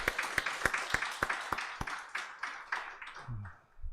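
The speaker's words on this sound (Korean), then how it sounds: "박수로 영광으로" A church congregation claps in a quick, even rhythm through a Sunday worship service, the sharp claps fairly close and steady for about three seconds before thinning out as a low voice begins.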